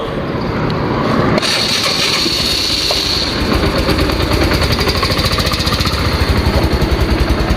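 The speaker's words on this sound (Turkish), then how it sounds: "Hozir o't elivadi motor." A motorcycle engine starts with a sudden crank and catch, then runs with a loud, rapid, steady throbbing idle that stays close and fills the rest of the clip.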